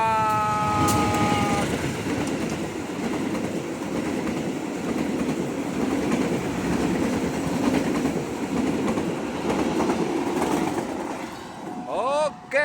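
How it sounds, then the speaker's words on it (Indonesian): The Bengawan passenger train rolls across a railway bridge, a loud, close rumble with rhythmic wheel clatter and metallic squeals, with a horn-like tone near the start and again near the end. "Oke, kereta api Bengawan melintas di rel kereta ini."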